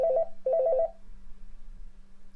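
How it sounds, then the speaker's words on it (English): A telephone rings in two short warbling bursts, close and clear, then stops and gives way to a low room hum with faint shuffling. "Somebody answer the phone?"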